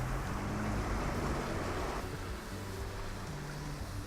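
A Land Rover Discovery Sport wades through deep water reaching about three-quarters up its wheels, with a steady wash and rushing surge of water under a low engine rumble that eases slightly near the end.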